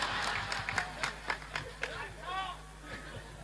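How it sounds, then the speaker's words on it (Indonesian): Audience at a religious talk clapping hands, a series of sharp, scattered claps close by, mixed with a speaking voice and faint crowd murmur. "Kayaknya Pak Polisi tepuk tangan."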